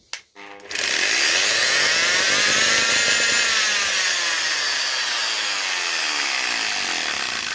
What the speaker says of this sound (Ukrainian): Болгарка ДВТ 230 круг. Коротше, я вам включу.